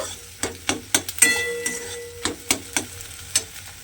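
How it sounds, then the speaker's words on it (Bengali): Egg scrambled and fried in a pan into bhujia for a cabbage dish, a spatula scraping and tapping in a steady rhythm of sharp clinks over a faint sizzle, close and moderately loud. "ডিমটা আমি এখানে খুব ভালোভাবে ভেজে নিয়েছি।"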